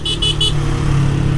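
Honda Titan 160 motorcycle fitted with a tin exhaust, its engine held at high revs in a loud, steady close-up drone, with three short high-pitched horn-like toots near the start.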